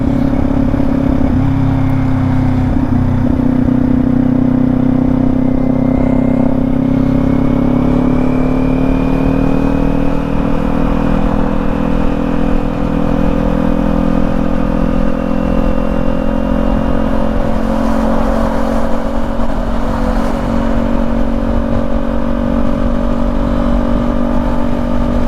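A Kawasaki Ninja 400 motorcycle rides through traffic with a loud, close, continuous engine drone that rises and settles gently as it changes speed, with no talking over it.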